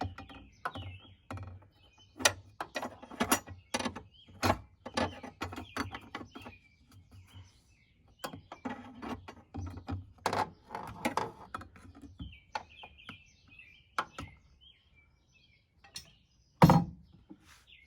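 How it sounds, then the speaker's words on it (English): Metal pry bar working a battery bracket into place under a 2008 BMW 328i convertible, giving a run of sharp metallic clicks, scrapes and knocks at close range, irregular and on their own, with one louder clunk near the end. "I'm going to use my what do you call it? Pry bar to see if I can install the bracket in the right place"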